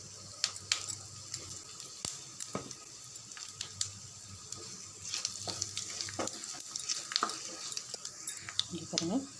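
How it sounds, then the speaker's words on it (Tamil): Spices tempering in hot oil over a low flame with asafoetida for a fish curry, a soft steady sizzle and crackle with scattered popping and a few utensil clinks, fairly quiet. "இங்கே பாருங்கள் நல்லா பொரிய ஆரம்பிச்சிருது."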